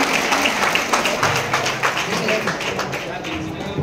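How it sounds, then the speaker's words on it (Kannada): A school audience at a ceremony bursts into sustained group clapping on request, a dense, steady wash of many hands that stays loud and even throughout. "ಅವರೆಲ್ಲರ ಸಲುವಾಗಿ ಒಂದು ಸಣ್ಣ ಚಪ್ಪಾಳೆಯನ್ನು ಜೋರಾಗಿ ಕಲ್ಪಿಸಬೇಕಂತ ನಾನು ಕೇಳ್ಕೊಳ್ತಾ ಇದ್ದೇನೆ"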